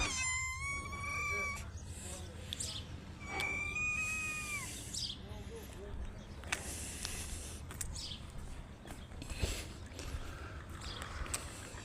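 A cat at Eski Foça harbour meows several times, rising and falling cries near the start and middle, over low background rumble and scattered handling noises.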